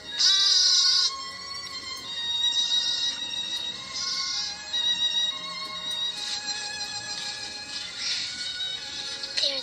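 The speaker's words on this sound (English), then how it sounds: "Oh, that poor little goat." A young goat bleats over and over, with high, wavering cries coming in a rapid sequence of close calls and no voices over them.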